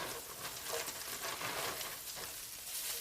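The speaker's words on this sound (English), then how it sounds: "I'm gonna take my stir fry mix, right? Open this up, right? And I'm gonna stir fry it" A stir-fry vegetable mix of broccoli florets, cabbage, bok choy and snow peas crackles in a hot pan with steady broadband sizzling and soft stirring scrapes, close and continuous, no voices.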